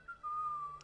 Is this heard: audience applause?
no